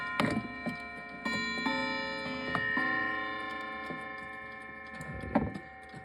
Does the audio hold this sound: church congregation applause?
no